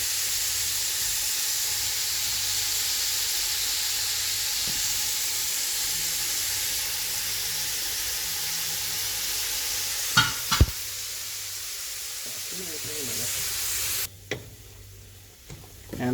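Garlic sizzles in a pan while bolognese sauce is being made. A steady, close frying hiss runs throughout, with a couple of sharp utensil knocks near the end before the sizzle drops away. No one speaks.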